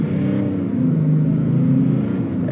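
A 2025 GMC Sierra 1500 Denali pickup accelerates at full throttle from a standstill onto a highway, its engine giving a steady, loud droning rumble with rising whir throughout, heard from inside the cab with no talking.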